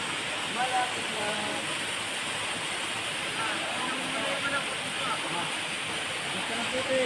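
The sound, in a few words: Bangon Falls waterfall at night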